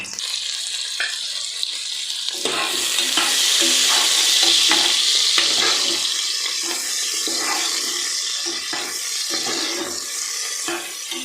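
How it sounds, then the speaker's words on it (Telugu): Boiled rajma cooking with biryani spices in a pressure cooker, a loud continuous sizzle and bubbling hiss with repeated soft scraping strokes of stirring running throughout, close up and without talk. "రాజ్మా బాయిల్ చేసుకున్నాను కదా, అదే కుక్కర్లో కుక్ చేసుకుంటున్నాను. ఇంకా బిర్యానీ స్పైసెస్ వేసుకున్నాను."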